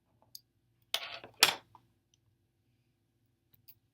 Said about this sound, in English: I'm going to trim these extra pieces that are hanging off